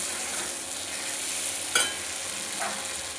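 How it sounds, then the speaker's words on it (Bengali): Spice paste for an egg curry fries in a pan with a steady soft sizzle, broken by a brief sharp clatter of stirring partway through and a fainter second scrape shortly after. "মশলাটা আমি খুব ভালোভাবে কষিয়ে নিয়েছি বেশ কিছুক্ষণ ধরে।"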